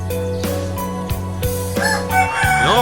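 A rooster in a backyard chicken coop crows loudly and close by, the drawn-out call rising and falling over a couple of seconds among other fowl.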